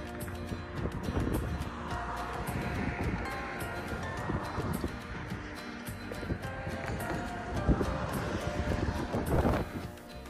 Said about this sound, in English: As you could hear, it was super windy here.